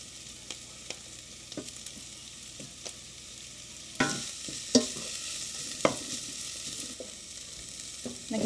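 Chicken frying in a pan with garlic, a soft continuous sizzle broken by scattered scrapes and clacks of stirring, with a few sharper knocks toward the end; no one speaks.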